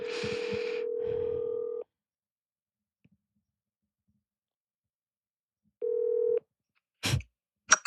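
A telephone call is placed: a steady dial tone, a silent pause, then another short tone and quick clicks of dialing, all close and clear with no talking.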